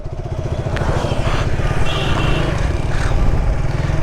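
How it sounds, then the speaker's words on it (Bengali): A Suzuki Gixxer Monotone motorcycle idles with a loud, close, steady engine thrum that throbs in a rapid regular beat throughout, with faint mechanical clatter and no talking. "ব্রেক টেস্ট করছি বাইকের"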